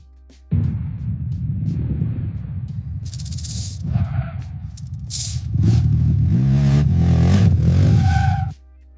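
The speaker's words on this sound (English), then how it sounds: "A man races on a powerful motorcycle at high speed, wind rushing past" A powerful motorcycle racing at high speed revs and roars, its engine note rising and surging in waves with rattling, windy bursts between, loud and close until it stops abruptly.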